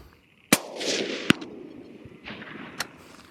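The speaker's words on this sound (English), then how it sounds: "We've just shot a quarter MOA group with this little old Tikka 270." Tikka T3 hunting rifle in .270 Winchester fired at a range, three sharp, loud gunshots spaced about a second apart, each with a short echoing tail and no talking.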